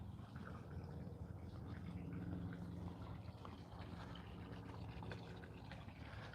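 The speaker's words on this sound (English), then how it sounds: "I hear water running. I'm not sure what that is. Oh, it's this water feature." Water runs steadily from a water feature at Lake Sumter Square, a faint, continuous outdoor trickle and splash with no voices.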